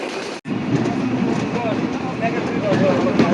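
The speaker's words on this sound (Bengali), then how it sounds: "আমাদের ট্রেনটি ইতিমধ্যে আলমডাঙ্গা রেলওয়ে স্টেশনে এসে পৌঁছালো" Intercity Rupsha Express passenger train running on rails in Bangladesh, between Khulna and Natore, nearing Alamdanga station: a loud, continuous rumble of the wheels and carriage, heard close from on board, with a brief dropout near the start.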